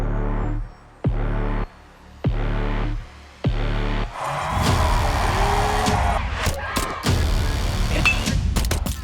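A race car at Keanu Reeves' professional debut in the GR Cup Series, passing in four short, evenly spaced engine bursts, followed by a sustained loud stretch of engine roar and track noise.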